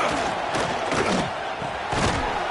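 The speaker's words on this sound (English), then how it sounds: "It's early, but this crowd is fired up. Listen to this noise here." Roaring football stadium crowd, a dense, loud wash of cheering and shouting with swelling peaks, sustained throughout with no clear break.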